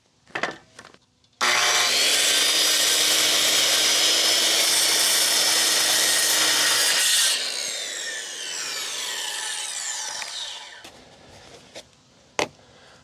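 A power saw rips a 45-degree cut through a wooden deck board, a loud continuous whine that holds steady for about six seconds, then shifts to a thinner rasping tone as the cut finishes and the blade spins down.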